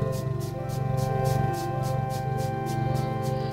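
Music made for cats mimics feline purring and meowing, with a steady low purr-like drone under soft tonal layers and a regular pulsing rhythm, moderately loud and continuous.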